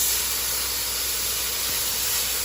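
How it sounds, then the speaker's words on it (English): Wine hitting a hot pan of sautéed mushrooms, a steady loud steamy hiss and sizzle that fills the whole stretch without pause, heard up close with no talk. "Now we're gonna deglaze the pan with about 1/2 cup of the wine."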